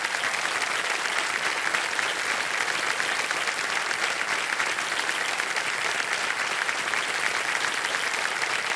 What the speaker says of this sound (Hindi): आदर सम्मान आपके लिए हम ताली बजाते हैं